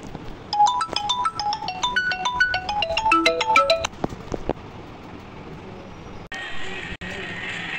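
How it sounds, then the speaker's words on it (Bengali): A mobile phone ringtone for an incoming call plays as a bright repeating electronic melody for several seconds, then stops, followed by faint room noise and a brief handling click. "ভুলে ফোন এসে পড়ছিল"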